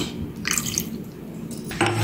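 A brief splash and trickle of a little water being poured in small amounts onto salt, pepper, oil and lemon juice for sandwich mayonnaise, with faint drips, close by and without talk.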